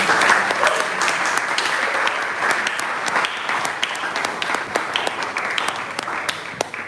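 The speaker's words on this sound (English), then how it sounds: "just round of applause will be fine" Dense audience applause after the French ambassador to Ghana speaks at a YouTube creators festival: a steady wash of many hands clapping, with a few sharper nearby claps standing out.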